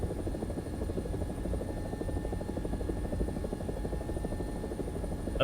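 An Italian AB 205 A-1 (UH-1H) helicopter flies in a video game, its rotor thumping in a steady, dense rhythm with a constant engine whine, loud and unbroken throughout.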